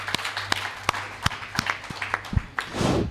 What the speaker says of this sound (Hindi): मैं चाहता हूं उनके सम्मान में जोरदार तालियां